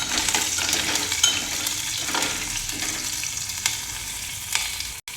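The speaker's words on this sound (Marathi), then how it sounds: "आपल्याला जिरं टाकायचं आहे, आणि त्याला हळूहळू हलवत मिरची पण टाकायची आहे" Cumin and chopped green chilli sizzle in hot oil as a tempering for cucumber koshimbir, a continuous dense crackling sizzle with light stirring clinks and a brief cut-out near the end.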